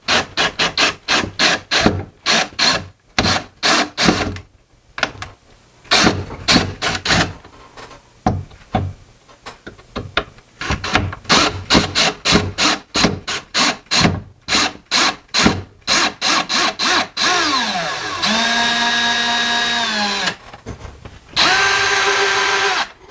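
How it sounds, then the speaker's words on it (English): Screws being backed out of a kitchen cabinet with a screwdriver, a long run of short squeaky, rasping bursts in quick rhythm, then a few sustained whirring pulls near the end, close and fairly loud with no talking. "we're going to take those screws out first"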